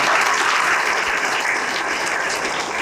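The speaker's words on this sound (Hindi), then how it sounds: "ताली बजाएं," An audience at a Hindi-language Christian sermon claps, a dense, continuous burst of applause filling the space, strong at first and easing slightly toward the end.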